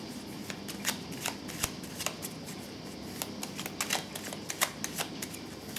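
Oracle cards being shuffled by hand, a run of quick crisp riffling flutters and soft slaps repeating close up at a low, intimate volume, with no talking.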